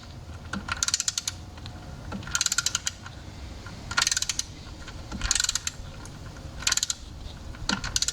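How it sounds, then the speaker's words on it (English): Torque wrench set to 30 newton-metres ratchets and clicks while tightening the rear coolant flange on a 2008 Audi A4 B7, coming in repeated short bursts of sharp, close clicks separated by brief pauses. "then you hear it click, so that means it's at 30 Newton meters of torque"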